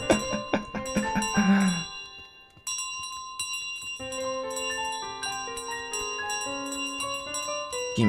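A bell in Untitled Goose Game rings several bright, sharp strikes, then chiming tones ring on over light game music, close and clear, with no talking.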